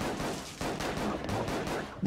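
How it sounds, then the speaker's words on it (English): Silenced pistol shots in UNLOVED, a quick series of muffled, evenly spaced reports that sit close and fairly quiet and carry through about two seconds. "So yeah, this is the pistol, it's updated now."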